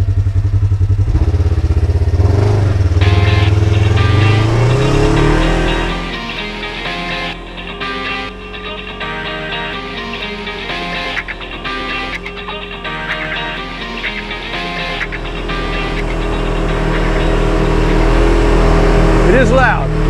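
A 1000XP Razer off-road vehicle roars loudly at close range, its engine revving and rumbling with clattering mechanical noise throughout.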